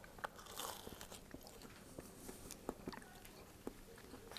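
Repeated crunchy bites and chewing into a hot, crisp deep-fried panzerotti, close and fairly quiet, with crackling textures and a few sharper crunches.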